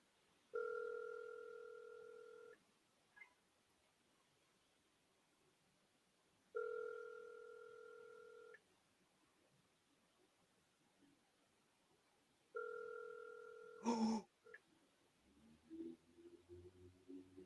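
Telephone ringback tone on a speakerphone call: three evenly spaced two-second tone bursts with pauses between, quiet and clear, followed by a click and faint sounds as the call connects.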